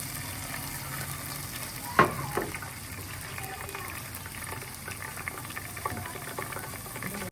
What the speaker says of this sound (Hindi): अब इसके अंदर जाएगा थोड़ा सा पानी।